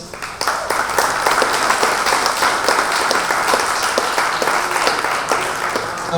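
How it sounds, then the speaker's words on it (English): An audience claps in sustained applause for the judges at a consumer packaged goods pitch competition, a steady dense patter of many hands running the full length at even loudness, with no voices. "A big round of applause for our judges."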